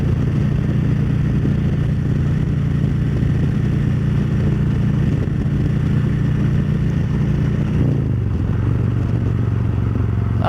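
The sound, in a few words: motorcycle cruising on the road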